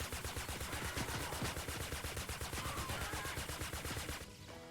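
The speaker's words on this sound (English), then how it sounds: "Not the minigun again!" A minigun in Fortnite Save the World fires continuously at high volume, its rapid, even burst of shots running unbroken for about four seconds before it cuts off.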